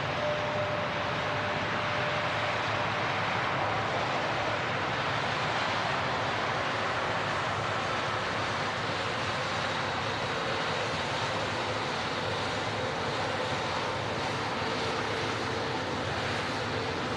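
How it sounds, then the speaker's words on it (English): A Singapore Airlines Airbus A350 taxis out at Manchester Airport, a steady broadband jet rumble and whine holding evenly throughout, moderately distant with no voices. "There's a Singapore A350 on the taxi out."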